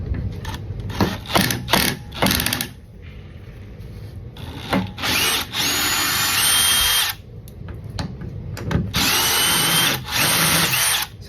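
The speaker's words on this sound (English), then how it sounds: "so we're gonna go get our drill and get going." A power drill removes 7/16 bolts from a garage door bracket, whirring in repeated loud close bursts with short gaps and mechanical rattling between runs.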